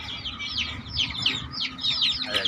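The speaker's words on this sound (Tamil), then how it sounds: "கோழியெல்லாம் பார்த்தீங்க," Chickens on a livestock farm cluck in a steady run of repeated calls, close and fairly loud, with no talking.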